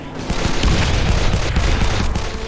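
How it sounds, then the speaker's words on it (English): Heavy combat in the Call of Juarez: The Cartel shooter on PS3, a loud, dense burst of rumbling blasts and rapid gunfire that fills the whole moment without a single clean explosion standing out. "Watch out! Grenade!"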